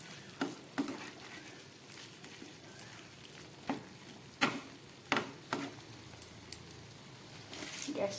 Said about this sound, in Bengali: খুব কম তেল মশলা দিয়ে রান্না হচ্ছে চাল কুমড়ো তরকারি।